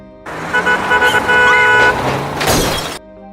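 A car horn honks sharply several times, close and loud, over the rumble of a car driving carelessly past a pedestrian, with a crash-like noisy burst near the end.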